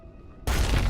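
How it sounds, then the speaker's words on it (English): A sudden explosion in the video game Eteria Restart bursts in after a quiet moment, a loud deep boom that sustains as a rumbling roar to the end. "What's happening? An explosion?"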